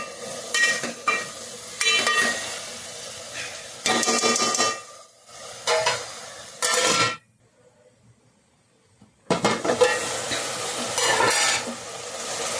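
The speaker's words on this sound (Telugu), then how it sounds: "మూత వేస్తాను ఉప్పు కూడా వేసాను కాబట్టి చక్క బాగా ఉడుకుతాయండి" Bottle gourd curry stirred and cooking in a pot before the lid goes on, with bursts of scraping, stirring and sizzling, a short silent gap, then sizzling and stirring again, close and fairly loud.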